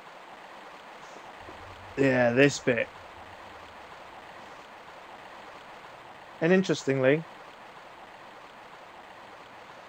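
Steady broadband rush of a waterfall in Tomb Raider Remastered runs through the whole stretch, with two short bursts of talk over it.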